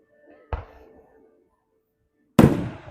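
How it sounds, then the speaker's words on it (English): Two fireworks burst at a 4th of July celebration in Hurley, Missouri, a smaller pop followed about two seconds later by a louder, sharper boom with a brief crackling tail, heard outdoors with no voices. "Watching the fireworks go off."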